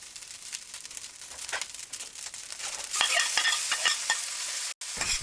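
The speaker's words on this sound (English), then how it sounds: "make sure that we stir right away and we flip the rice as much as needed" Rice, eggs and venison stir-fry in a hot wok: continuous sizzling with repeated scraping and tossing clatter of a spatula, growing louder partway through, up close with no talk.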